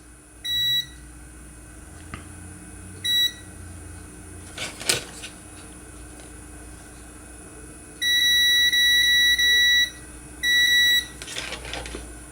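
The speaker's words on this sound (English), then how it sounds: "See, when you touch these together, it beeps." Continuity tester giving short steady electronic beeps while its probes bridge a new ceramic fuse on a circuit board, with three or four separate beeps of varying length, the longest lasting about two seconds, under faint background noise.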